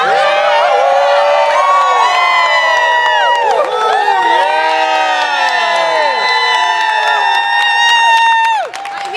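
Crowd cheering on the NYSE trading floor at a company listing celebration, loud sustained whoops, shouts and high-pitched yells from many voices close by, swelling and overlapping continuously.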